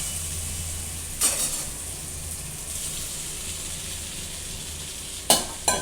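Chicken pieces sizzling in an oily pan with cashews for chicken majestic, a steady soft frying hiss with two sharp louder bursts as pieces are stirred or added, no talking.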